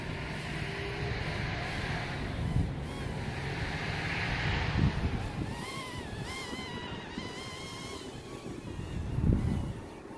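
Steady wind gusting outdoors during a test flight of a small Sanrock / UDI U65 Flying Hero drone, a continuous broadband rush with microphone buffeting, a faint whining motor tone weaving through the middle.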